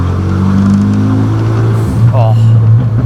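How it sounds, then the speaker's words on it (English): A Renault Megane RS exhaust note drones steadily and loudly with the window down while the car slows on a twisty road, its low tone holding even, with a brief voice partway through. "let's listen to that exhaust note"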